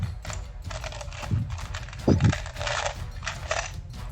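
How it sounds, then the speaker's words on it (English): Dice being rummaged through during a tabletop role-playing session, giving a steady run of light clicking and clattering with a couple of louder rattles. "I'm just digging through my dice first."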